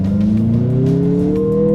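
A Mazda CX-50 engine at full throttle climbs steadily in pitch, loud and close from inside the cabin, a continuous rising drone with no talking.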